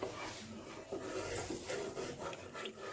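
A spoon scrapes and rubs steadily around a pan as besan, turmeric and milk are stirred while cooking, a soft continuous rasping close by with no voices.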